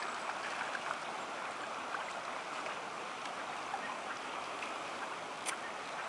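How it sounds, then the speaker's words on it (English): Soft, steady rushing of a shallow creek flows continuously, a faint even burble with no voices. "It's a little shallow along this creek."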